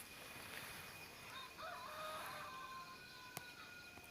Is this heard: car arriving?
no